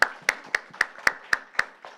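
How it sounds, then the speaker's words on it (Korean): Church congregation clapping together during a Sunday service: eight sharp, evenly spaced claps in a steady unison rhythm, close and distinct with no talking over them. "박수 한번 해."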